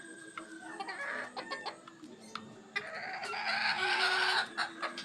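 Gamefowl chickens of a bantam breeding line cluck and call in short bursts, with a louder squawking stretch near the end, fairly close and alone with no talk.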